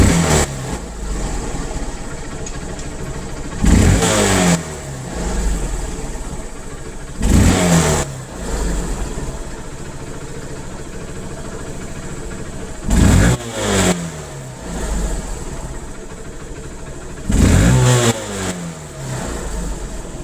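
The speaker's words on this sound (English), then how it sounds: "check that the throttle response is crisp and the idle falls sharply as you release the throttle" A 2009 BS2 motorcycle engine running on E20 petrol idles steadily, broken by four short, sharp throttle blips that rise quickly and drop back to idle. It is close, loud and clear, with no talk.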